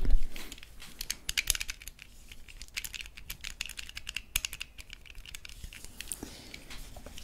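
Buttons on Zelda edition Nintendo Switch Joy-Con controllers click close up in a steady, rapid patter of light plastic taps, continuing for several seconds with no talk over them.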